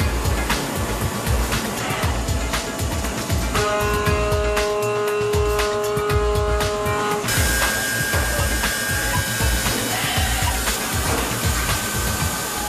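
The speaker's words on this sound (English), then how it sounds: "It's done by machine to make sure that the holes are exactly the right size." Machinery drills holes into padlock bodies in a factory, a steady loud mechanical whir with a high whine that shifts pitch partway through, continuous and without talk.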